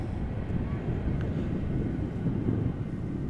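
A Boeing 737-800 airliner arriving at Amsterdam Schiphol Airport, a continuous low broadband engine roar with wind noise, fairly loud and steady throughout.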